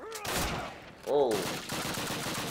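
Call of Duty gunfire crackles in short bursts, loud and close, broken by a brief electronic whine and a steady rattling din, with no speech.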